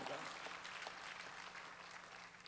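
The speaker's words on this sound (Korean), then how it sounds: "믿으면 박수치라" A church congregation at a Wednesday worship service claps together, a soft, distant, continuous patter of applause held low throughout.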